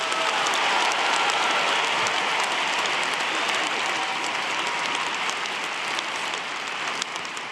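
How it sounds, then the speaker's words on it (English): Steady, dense applause from a large audience at a university convocation for the College of Family, Home, and Social Sciences, greeting anthropology graduates, sustained and even throughout with no talk over it. "We now invite your applause for these graduates in anthropology."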